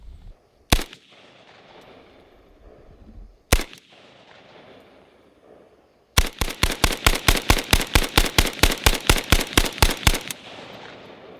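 Gunfire from a Zastava N-PAP underfolder AK rifle being zeroed: two separate loud single shots, then a rapid string of about twenty evenly spaced shots, sharp and close outdoors.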